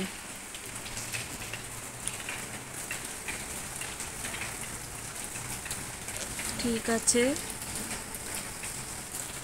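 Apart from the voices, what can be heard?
heavy rain with strong wind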